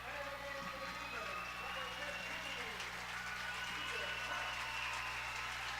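A high school boys' basketball crowd applauds in a gym, a steady wash of clapping and murmur that holds throughout and grows slightly louder toward the end, with an announcer talking over it.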